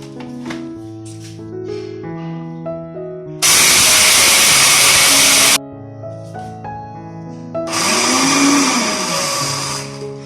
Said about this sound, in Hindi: अब इन बारी बारी इन दोनों को मैं ब्लेंडर में डाल के पीस लूंगी।